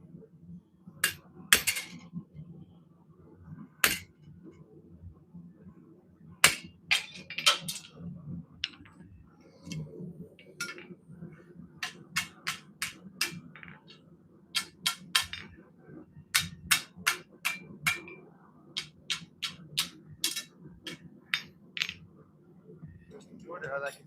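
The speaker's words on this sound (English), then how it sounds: "I want to cut that off. Here's my chisel." Sharp metal chisel strikes ring out unevenly, cutting away an old fish-mouth fitting, some single and some in quick bursts, over a low steady hum.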